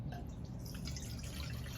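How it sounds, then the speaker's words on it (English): Water and bits of garbage poured from a jar through a strainer into a bowl make a soft, steady trickle with light dripping, faint and close throughout. "And then you're going to pour your jar of water and garbage into your strainer."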